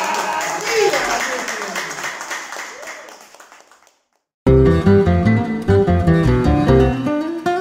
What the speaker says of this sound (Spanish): Un aplauso para Pepe Mantero